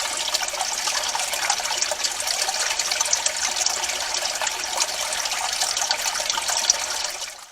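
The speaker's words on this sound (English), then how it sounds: "I hear the water coming down that little rock slide into the pool that's right at the spring level" Spring water trickles and splashes down a small rock slide into a pool at spring level, a continuous close bright gurgle that fades out at the end, with no voices.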